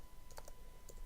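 Brief bursts of typing on a computer keyboard, a few quick close keystrokes in about a second, quiet and with no talking.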